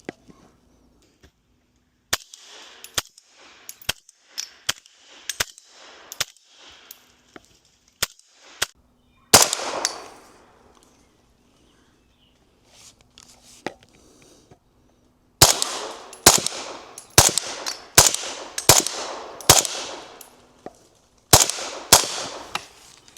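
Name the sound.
suppressed PSA Jakl firing subsonic rounds, Dead Air Mojave 45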